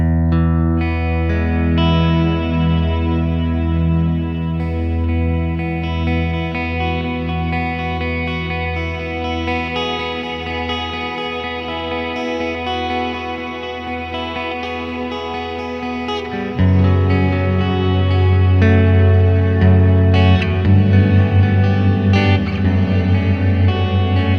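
An electric guitar rings out through reverb pedals in stereo, sustained chords washing into long ambient tails, with a louder, fuller chord hitting partway through.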